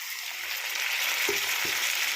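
Ginger garlic paste fries in hot oil for a palak aloo curry, a steady close sizzle hissing throughout with a couple of soft stirring knocks partway through.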